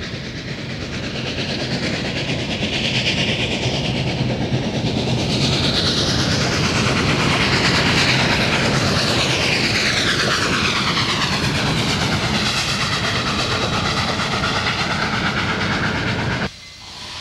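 Union Pacific 844 steam locomotive pulling support cars and a short freight train rumbles past loudly and steadily, with a heavy mechanical roar and rhythmic rail noise that swells and then cuts off abruptly near the end.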